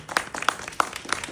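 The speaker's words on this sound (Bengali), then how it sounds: "আবার করতালি হয়ে যায়" A few people at a book launch clap in a short, sparse burst of distinct hand claps, moderately loud and fairly close.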